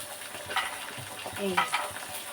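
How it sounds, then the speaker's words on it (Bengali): Homemade bori, Bengali lentil dumplings, sizzle in hot oil while a utensil stirs and scrapes them around the pan, producing close crackling frying with a few distinct stirring clatters and no talking. "তেল দিয়ে দিচ্ছি এইটাতে ওই বড়ি দিয়ে না লাউটা করব"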